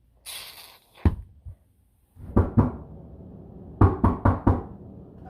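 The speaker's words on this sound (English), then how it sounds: "Who's knocking the door?" Knocking on a door in a comedic home skit: a single knock, then a pair of raps, then a quicker run of four loud knocks, close and clear with pauses between.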